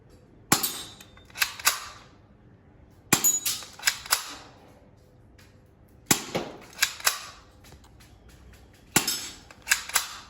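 Four sharp shots from a metal toy Glock 19 pistol (Galaxy G15) firing pellets, spaced a few seconds apart, each a crisp snap followed by a brief rattle and clatter, close and loud in a quiet space.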